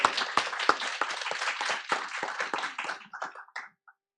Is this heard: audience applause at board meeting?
yes